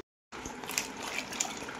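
Water poured and splashing over mangoes being washed for pickle at home, a continuous gushing pour that starts abruptly after a brief silence, close and fairly loud.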